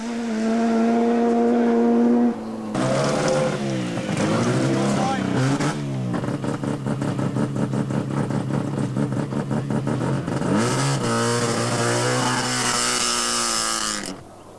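A 1986 Rally New Zealand rally car roars past on a gravel stage south of Takawuti, the engine note rising loud and close with gear changes, then revving hard again as it pulls away.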